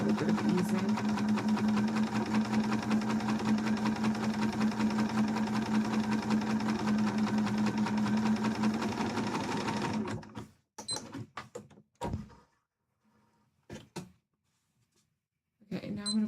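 Sewing machine stitching fabric for a Link cosplay from Twilight Princess, running in a steady loud whir for about ten seconds before stopping, followed by brief handling noises and quiet gaps.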